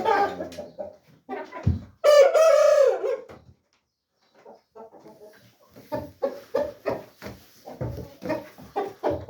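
A rooster crows loudly and close, while chickens cluck in short repeated bursts throughout, sometimes overlapping, with brief quiet gaps between calls.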